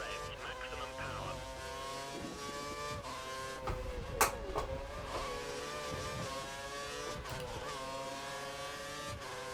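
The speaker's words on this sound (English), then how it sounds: "He's running full revs, maximum power." A Formula 1 car engine screaming at full revs during the Italian Grand Prix in F1 2013, a steady, loud, high-pitched whine with layered harmonic tones held throughout, with a brief sharp burst midway.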